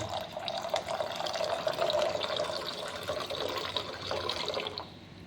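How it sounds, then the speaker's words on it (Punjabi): Water is poured into a pot in one steady, close stream that runs for about five seconds and then stops, with no talking over it. "ਥੋੜਾ ਜਿਹਾ ਪਾਣੀ ਆਪਾਂ ਹੋਰ ਐਡ ਕਰ ਦਾਂਗੇ"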